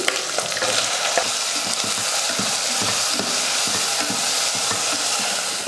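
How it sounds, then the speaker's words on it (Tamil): Steady sizzling as tomatoes sauté in a pan with ginger-garlic paste for chana masala, with occasional scraping stirs and clicks throughout, close and moderately loud, no talking. "தக்காளி ஓரளவுக்கு வதங்கிடுச்சு"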